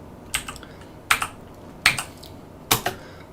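Keys on a Sinclair ZX Spectrum keyboard are pressed one at a time while redefining game controls, four separate clicky double-taps spaced evenly apart, close and clear against a quiet background.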